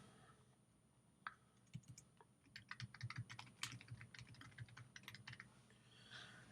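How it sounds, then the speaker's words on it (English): Typing on a computer keyboard, a quiet burst of quick, irregular key clicks close by, with a few isolated taps before and a faint pause at the end. "And I can type in anything, any web address here"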